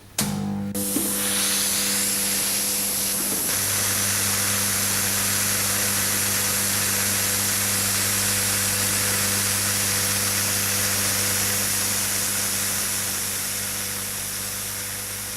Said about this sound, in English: The arc melts the metal and the compressed air blows it away.